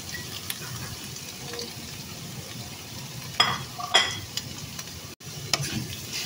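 A spoon stirs sautéed mung beans with tomatoes in a hot pan for a Filipino ginisang monggo with jackfruit and pork. There is steady frying sizzle with scraping stir strokes and a few clinks, close and without talk.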